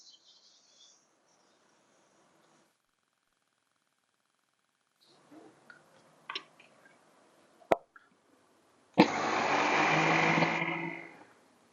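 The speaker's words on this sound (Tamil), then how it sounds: "இப்போ இதை நம்ம மிக்சியில் போட்டு அரைச்சிக்கலாம்" After a few faint clicks and knocks, a mixer grinder roars loudly for about two seconds as it grinds roasted raw rice, then winds down.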